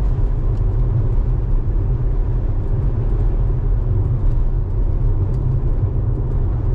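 A car cruises in fourth gear on a federal highway, a loud, steady low engine and road rumble filling the cabin without interruption or speech.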